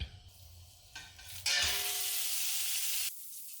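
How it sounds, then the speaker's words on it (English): Ground hamburger meat, three pounds of it, browning in hot olive oil for homemade chili, starting with quiet scraping stirs before a loud sizzle surges in and holds, then abruptly drops back. "heat up that olive oil and start browning the hamburger meat"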